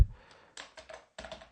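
Keys on a computer keyboard are tapped in a few quick, close clusters of soft clicks with short pauses between them, heard without any speech.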